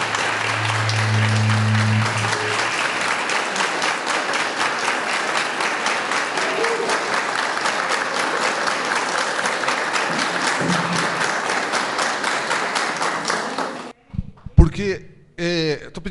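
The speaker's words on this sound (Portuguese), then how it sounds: "Eu gostaria de pedir uma salva de palmas para esse..." Dense, steady audience applause at a closing lecture fills roughly fourteen seconds with rapid overlapping claps, then stops abruptly as a voice begins speaking.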